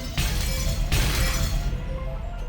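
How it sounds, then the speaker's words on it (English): Glass shatters in the video game Umineko Chiru, two loud crashing breaks less than a second apart, each followed by a spray of tinkling shards that slowly dies away. "the sound of shattering glass"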